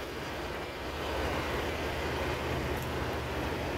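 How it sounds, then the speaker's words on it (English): A noisy Volvo truck engine drones loud and steady, a continuous low rumble with broadband roar that barely changes for a few seconds, no voices over it. "I won't bore you with this noisy Volvo up here"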